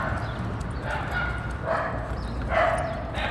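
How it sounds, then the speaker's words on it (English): A small Scottish Terrier barking a few times at moderate distance, short yaps rising over a continuous outdoor background hum. "She hears the dog."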